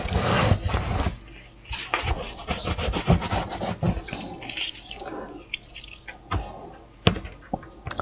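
A burnishing tool rubbed firmly over glued paper pages of a handmade envelope mini album, giving repeated scraping, rasping strokes close up with short pauses between them.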